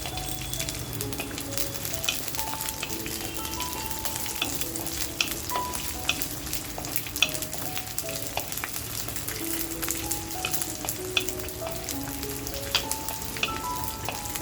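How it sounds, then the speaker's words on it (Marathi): Red chillies and garlic fry in a pan with a steady close sizzle and occasional stirring clicks, continuous and even throughout with no talking. "मिरच्या हलक्याशा लाल होत आल्या ना, म्हणजे भाजत आल्या ना, की आपल्याला जी लसूण घेतली आहे ती लसूण टाकून घ्यायची आहे।"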